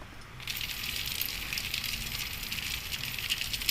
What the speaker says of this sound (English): That fire sounds like it's raining.